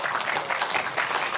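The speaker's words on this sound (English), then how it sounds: "Why don't we give her a round of applause?" Audience at a comedy talk event applauding in a steady, dense round of clapping that fills the short stretch at even loudness, with no voices over it.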